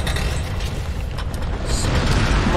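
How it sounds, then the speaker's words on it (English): A gas explosion in an unstable cavern in Tomb Raider is heard as a loud, sustained low rumble with crumbling debris, swelling toward the end and unaccompanied by voices. "That might have been the load-bearing explosion."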